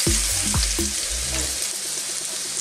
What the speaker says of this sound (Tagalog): Mainit na po yung ating wok, may mantika na.